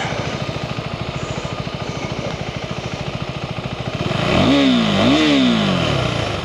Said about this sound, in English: this is kind of a quiet bike. That looks like a sport bike